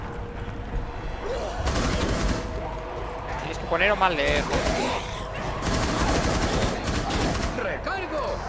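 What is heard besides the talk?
gunfire in video game Rainbow Six Outbreak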